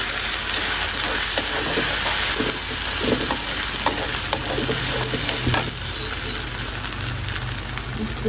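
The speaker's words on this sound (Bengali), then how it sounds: "এখানে আদা রসুন দিয়ে দিচ্ছি হলুদের গুঁড়ো মরিচ গুঁড়ো দিয়ে দিচ্ছি" Ginger, garlic, turmeric and chili powder frying in a pan give a steady, close sizzle with scattered stirring scrapes and crackles throughout.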